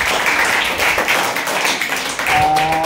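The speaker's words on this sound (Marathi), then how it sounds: "छान टाळ्या" A classroom of students claps together in a dense, even burst of applause that runs steadily for a few seconds before tailing off, with a tone or voice briefly sounding near the end.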